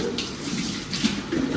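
Water gushes steadily from a household tap into a container, a continuous rushing splash up close with slight changes in tone.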